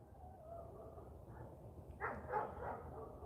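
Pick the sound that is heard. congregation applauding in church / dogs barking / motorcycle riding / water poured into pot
dogs barking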